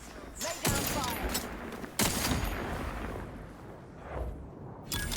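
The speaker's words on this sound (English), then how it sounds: "Target analyzed. Lay down fire." Gunfire in The Outer Worlds 2, a few sharp shots and bursts over a game soundscape, moderately loud, with some in-game voice nearby.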